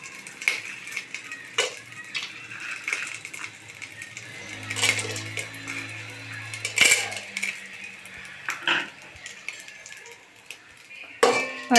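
Biryani spices get stirred in hot oil, with a metal spoon clinking and scraping against the pan in irregular knocks and taps over a faint sizzle.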